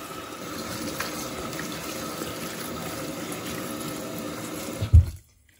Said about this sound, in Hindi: अब ये देखे मैं धो रही हूँ ना, तो अब पानी निकालूंगी ना तो साग साथ जाया नहीं होगा।